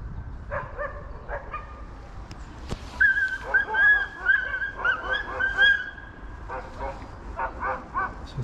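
A pack of stray dogs barks in a city street, with bursts of yips and barks coming in clusters at moderate distance, mixed with people talking.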